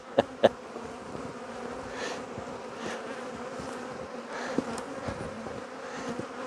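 A steady, low buzz of many honeybees drones at an open hive on a cool day of around 7-10°C, with a few soft knocks and bumps over it.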